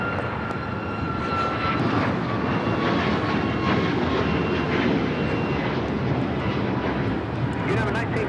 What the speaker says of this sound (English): That is United 1936 taking off to Fort Myers on the MAX 8.